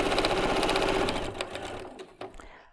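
A sewing machine stitches a fabric seam while piecing a quilt block, humming in a fast, steady rhythm for about a second before slowing and stopping, followed by a few faint clicks.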